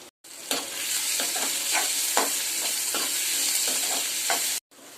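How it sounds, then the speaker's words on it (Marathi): Sliced onions with salt fry in hot oil, a loud continuous sizzle broken by repeated scraping stirs of a spatula against the pan, close up with no voices. "तेल टाकून झालेलं कांदे टाकूया कांद्यामध्ये आपण मीठ टाकूया म्हणजे कांदे लवकर फ्राय होतात"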